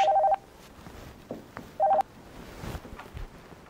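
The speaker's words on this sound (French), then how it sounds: "Téléphone. Faut décrocher." A telephone rings in a bank with two short electronic beeping bursts about a second and a half apart, over faint background shuffling and room noise.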